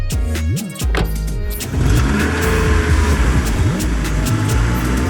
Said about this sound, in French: Les filles, notre voiture a calé.